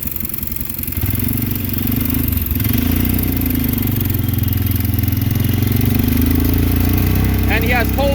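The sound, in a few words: mini go-kart engine running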